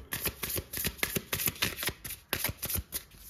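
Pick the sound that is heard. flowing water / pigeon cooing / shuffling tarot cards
shuffling tarot cards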